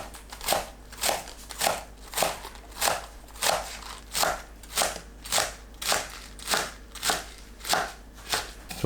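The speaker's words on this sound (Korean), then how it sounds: "알배추를 채 썰어 주세요." A knife julienning napa cabbage on a cutting board, giving crisp, evenly spaced chops about twice per second, close and clear with no talking.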